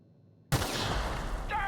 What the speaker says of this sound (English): I made an What in the explosion